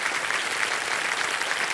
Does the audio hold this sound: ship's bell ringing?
no